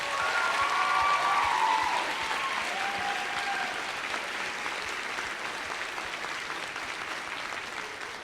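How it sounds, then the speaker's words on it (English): Sustained audience applause honoring senior jazz band members at a high school band concert, dense and even clapping from a large crowd holding steady and easing slightly over several seconds. "Let's give them a big round of applause."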